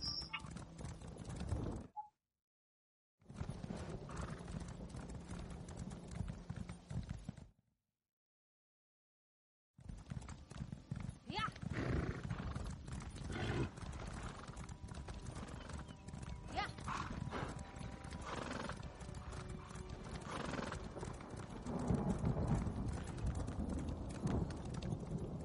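Horse hooves clip-clop steadily in a video game, with a horse neighing, broken by short silent gaps and a dense, continuous mix of game sounds.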